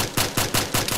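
Video game gunfire crackles in five evenly spaced loud bursts, each sharp report ringing across a busy battlefield soundscape.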